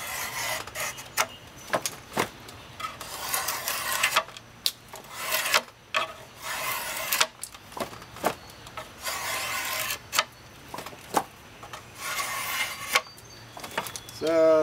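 A drawknife shaves a wooden chair spindle in a run of short, rasping strokes, each a brief scraping burst followed by a pause, close and fairly quiet.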